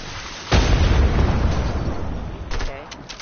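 Dynamite goes off in a multiplayer video game, a sudden loud boom with a broadband blast that rolls into a long rumbling tail, followed by faint crackles and a few small pops.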